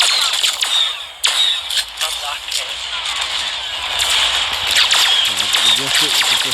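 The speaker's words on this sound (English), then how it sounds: "The rocket which I just used and the ultimate is like loads of heat-seeking missiles or homing missiles of some sort." Weapon fire in the Star Wars: Hunters mobile shooter, a rocket launcher shot among sharp, repeated blasts over a dense, constant wash of game noise, loud and close throughout.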